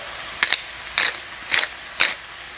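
A hand-turned pepper grinder cracks peppercorns in four short, gritty ratcheting bursts, evenly spaced and close to the microphone in a quiet kitchen.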